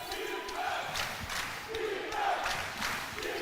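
Basketball arena crowd at a college men's game, a loud continuous roar with rising chanting surges, steady and fairly near throughout.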